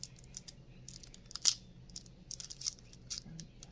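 Several crisp snips of scissors cutting through the thin packaging of an oracle card deck, with a sharper rustle midway, in an otherwise quiet setting.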